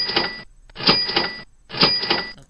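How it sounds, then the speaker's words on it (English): A cash register sound effect from PowerPoint plays three times in a row, each a bright, metallic ringing clatter with short gaps between, loud and close with no talking. "I'm going to choose the cash register sound"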